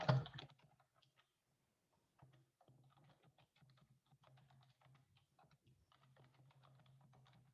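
Keys on a computer keyboard are pressed while a password is entered: a loud click at the start, a pause, then a steady run of soft, close keystrokes with a faint hum underneath and no voices.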